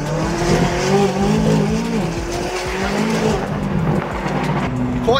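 A stage 2 tuned McLaren 570S sports car drives, its engine a loud, close, continuous rumble with shifting tonal whine as it revs and accelerates, and faint voices underneath.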